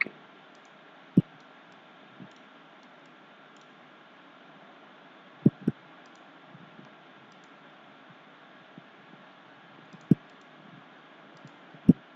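Computer mouse clicking while working in CATIA V5, scattered sharp single and double clicks at irregular intervals over a faint steady hum, close and quiet, no talking.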